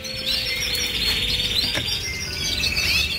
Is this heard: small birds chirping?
yes